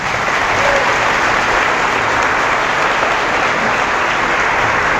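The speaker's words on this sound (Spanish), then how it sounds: "Un aplauso para él." Loud, dense applause from a large crowd at a debate between a Catholic priest and an evangelical pastor, a continuous wash of clapping held steady throughout with no talk.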